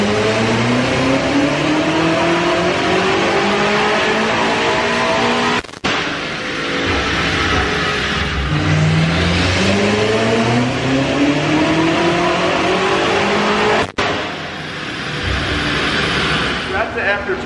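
A BMW F92 M8 or E36 on a dyno during tune runs, the engine revving hard in long rising sweeps through the gears, loud and close, with brief cuts between pulls.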